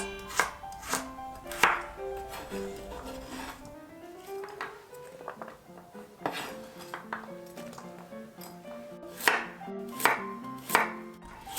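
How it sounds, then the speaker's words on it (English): Knife chopping carrots on a cutting board for an oven-baked chicken thigh and vegetable dish, with a series of sharp, close, uneven chops and clicks of the blade against the board, heard alone without talking. "I just cut the carrots into 2 and then slice it"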